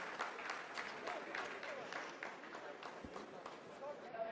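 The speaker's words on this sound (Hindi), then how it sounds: "आप इस तालियों के गड़गड़ाहट को सुन सकते हैं" Scientists in mission control applaud during the Chandrayaan-3 lunar landing, with steady clapping from a room full of people running beneath continuous talk throughout.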